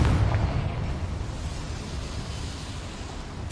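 A Confringo fire spell in Hogwarts Legacy, cast in a small mine, lets out a loud rumbling blast that hits hardest at the start and then rolls on as a low, steady roar without fading.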